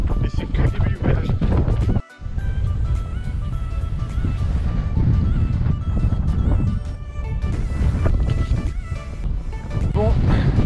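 Strong coastal wind on the Iceland shore buffets the microphone in loud, continuous rumbling gusts, dipping briefly once before surging again, while a voice speaks underneath.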